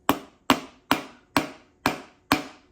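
Six sharp, evenly spaced taps land close up as a piston is driven into a cylinder of a Toyota 1FZ-FE engine through a ring compressor, each knock ringing out briefly, with no voices.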